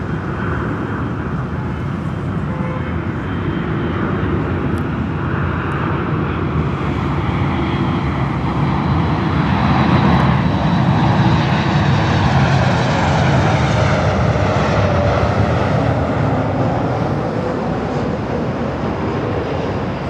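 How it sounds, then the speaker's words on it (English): A Southwest Airlines Boeing 737 MAX 8 arriving from Sacramento lands at Los Angeles International Airport, its jet engines producing a loud, continuous roar that swells gently and holds steady for about twenty seconds, with no voices. "Next arrival is Southwest Airlines flight 4063 coming in from Sacramento, 737"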